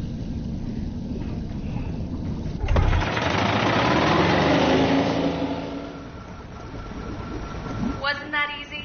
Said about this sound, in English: The engine is engaged and we are starting our ascent.